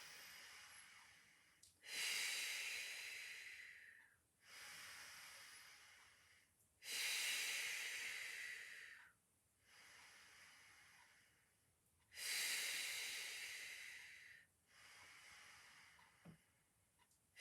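Deep, airy exhaled breaths during a Pilates exercise, three long strong breaths alternating with softer, shorter ones in a slow, even rhythm, close and alone without talk.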